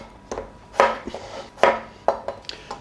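Maris Piper potatoes being chopped into pieces on a cutting board, with about six sharp knife strikes in an uneven rhythm, each a crisp close thunk against the board.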